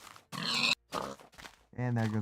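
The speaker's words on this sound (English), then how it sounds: "Hey, look, more pigs." Minecraft pigs grunting in short bursts, several close oinks spread across a couple of seconds, with a voice talking over them.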